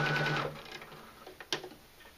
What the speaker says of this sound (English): now I'm folding over and sewing from the front side